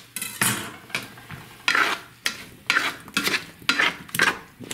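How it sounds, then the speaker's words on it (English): Diced potatoes, peppers and red onion fry in a pan while being stirred, giving a series of rhythmic scraping, clattering bursts over a low sizzle, close and fairly loud. "Let that come to a sizzle."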